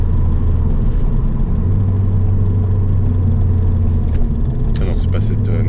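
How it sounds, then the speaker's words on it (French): Inside a Ford Fiesta ST Mk7 with a Stage 2 tune, a steady loud engine and intake drone fills the cabin from start to end, with people talking over it. "On entend bien l'admission"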